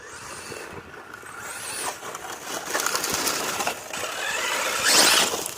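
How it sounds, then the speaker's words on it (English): Traxxas Sledge RC truck running with a possible stripped gear, a whining, grinding motor and drivetrain noise that rises in loudness, crunchy rasps and a sharp squeal near the end, heard close with no talking. "I don't know, that sounded like gear strip there"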